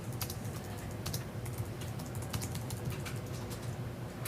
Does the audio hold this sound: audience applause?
no